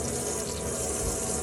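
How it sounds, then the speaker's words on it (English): Water runs steadily from the cold tap of an Adria Twin Supreme 640SGX caravan with the pump on, a continuous close rushing hiss with no pauses. "and your cold water tap."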